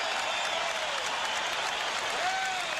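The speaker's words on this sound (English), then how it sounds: "Gives him a standing ovation" Dense applause and crowd roar in a basketball arena during a 1998 Bulls–Nets playoff game, a steady wash of clapping from a large audience, with a faint voice rising briefly over it.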